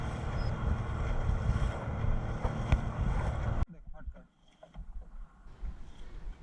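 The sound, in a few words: strong wind on a fishing boat at sea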